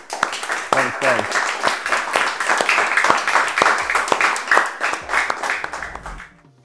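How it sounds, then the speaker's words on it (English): An audience at a goalkeeping talk gives a round of applause, sharp individual claps layered over a crowd patter, with voices calling out amid it before it fades out over about six seconds. "massive round of applause for Freddie, please"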